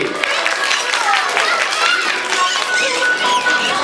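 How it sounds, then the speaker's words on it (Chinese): An audience claps for a parrot acting as class monitor after it rings a bell at an eco-farm animal theatre show. The steady, dense clapping lasts the whole stretch, with chatter and bird calls mixed in. "请给我们的班长掌声鼓励"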